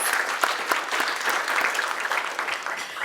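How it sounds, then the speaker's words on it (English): A room full of people at a university president's address claps for event sponsors, a sustained, even round of applause lasting a few seconds without speech. "A round of applause for them, please"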